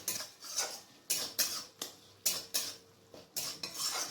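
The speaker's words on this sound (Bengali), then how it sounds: "এরপর এগুলোকে ভালো করে মিক্স করে নেব।" Spoon scraping and knocking in a pan while turmeric and chili powders are mixed, about ten rhythmic strokes with metallic scrapes, close and fairly quiet, with no speech.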